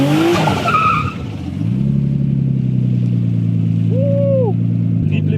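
A Nissan Skyline R33 speeds past on a wet road, a short tire screech up front giving way to a loud, steady engine drone close by, with a brief rising whine near the end.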